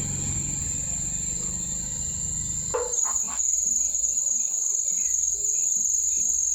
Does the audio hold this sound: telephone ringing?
no